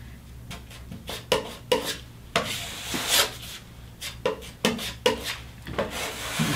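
Bondo body filler being spread and dragged across a pool table slate seam, with repeated scraping strokes of a spreader in an uneven rhythm, close and fairly quiet and without voices.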